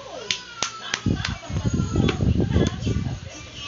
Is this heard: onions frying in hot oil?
no